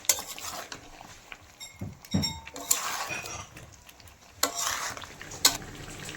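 Meat and purple cauliflower are sautéed in a pan with a soft sizzle under scraping stirs and several sharp spoon-on-metal clinks, close and uneven.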